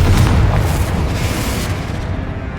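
Confringo blasting spell explosion in the Hogwarts Legacy video game: a loud, dense booming blast that fills the whole clip and slowly fades over a few seconds, with no talk.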